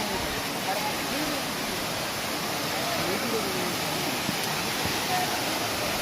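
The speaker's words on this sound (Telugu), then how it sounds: "వాటర్ ఫాల్ దగ్గరికి వచ్చాం." Tirathgarh waterfall in a Chhattisgarh forest gives a steady, broad rushing roar that fills the scene without pause, with a voice talking faintly over it.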